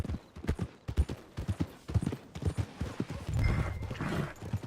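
Horse hooves clip-clop in a steady walking rhythm on hard ground in the video game Red Dead Redemption 2, close and clear, with a brief snort or whinny near the end.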